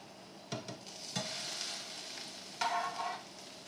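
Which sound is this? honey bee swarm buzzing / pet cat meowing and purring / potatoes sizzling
potatoes sizzling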